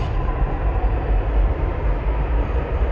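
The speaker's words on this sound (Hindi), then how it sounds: "देखो मेट्रो आ चुकी है इधर की लाइन पे" A Delhi metro train running along its track, a steady, loud low rumble with continuous rolling noise throughout, no voices.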